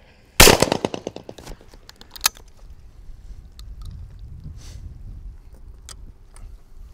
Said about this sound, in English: Okay, so I'll shoot an angle target.